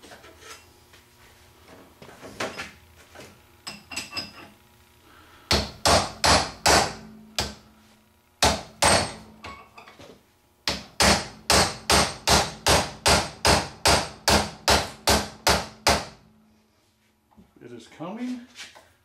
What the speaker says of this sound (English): I'm going to put a punch up here, try and drive the shaft out of the bearing.